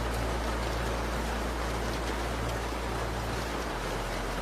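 Heavy rain pours steadily in a dense, loud, unbroken hiss with no gaps or voices.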